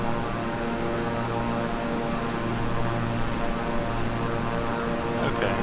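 Twin propeller engines of a King Air 350i in Microsoft Flight Simulator roar at full throttle, a dense, continuous buzzing drone that holds steady and fairly loud throughout.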